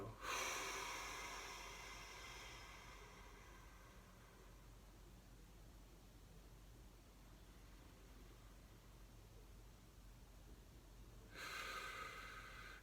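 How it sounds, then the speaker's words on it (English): Nasal inhale and exhale during a guided mindful meditation, heard as a soft, breathy hiss that fades into a long quiet hold before a second breath returns near the end. "Inhale through your nose, hold it, and exhale."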